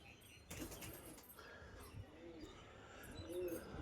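Domestic pigeons scuffle on the ground with a few soft low coos spaced apart, faint, with a brief dull thump early on.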